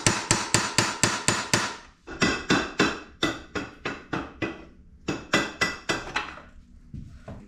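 A hammer strikes a metal punch in quick, sharp, evenly spaced taps, driving out a pin on an outboard motor's lower unit, several bursts of blows separated by short pauses, close and loud.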